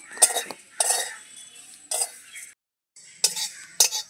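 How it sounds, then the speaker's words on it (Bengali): Flattened rice (chira) is dry-fried without oil in a kadai over a stove, and a utensil scrapes and clinks against the pan in short, crisp bursts separated by brief pauses, close up with no voices. "চিড়াটা কিন্তু আমি তেল ছাড়াই ভাজবো"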